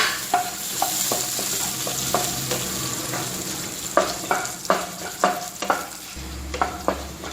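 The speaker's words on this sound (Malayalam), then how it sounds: "ഇത് ജസ്റ്റ് ഒന്ന് ഫ്രൈ ആയി വരുമ്പോഴത്തേക്കിനും നമുക്ക് മുന്തിരി കൂടി ചേർത്ത് കൊടുക്കാം" Raisins fry in a pan for aval vilayichathu, a soft steady sizzle broken by sharp, repeated scrapes and taps of a spoon stirring. The sounds are close, with no talking.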